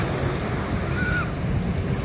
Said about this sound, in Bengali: এখানে পুরো সমুদ্রের ঢেউগুলো আছড়ে পড়তেছে